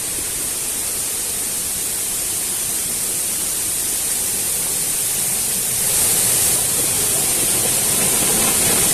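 Mini Ella, a hidden waterfall in Sri Lanka running high after days of heavy rain, gives a constant, loud broadband roar of falling water that swells slightly toward the end, with no voices.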